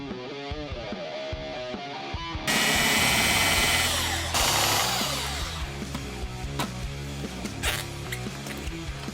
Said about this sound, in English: We're going to use our good friend, our Milwaukee Sawzall, for that.